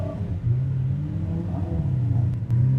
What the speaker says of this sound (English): So throw a couple of revs up.